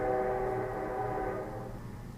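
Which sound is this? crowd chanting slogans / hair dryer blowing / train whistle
train whistle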